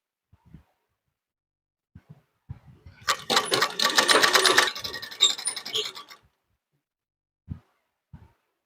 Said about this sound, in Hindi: तो इसी तरह हम पूरे पट्टी में एक चाप का सिलाई लगा लेते हैं